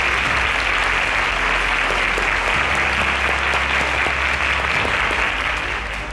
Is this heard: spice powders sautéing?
no